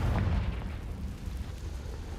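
A Confringo fire spell bursts in the Hogwarts Legacy video game as a heavy low boom right at the start, its rumble decaying into a long, muffled tail.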